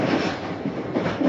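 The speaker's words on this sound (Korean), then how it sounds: "기차 여행." A passenger train runs on the line from Seoul to Jeonju, heard as a steady, close rumble with faint rhythmic clatter from the rails through a brief stretch. No one speaks.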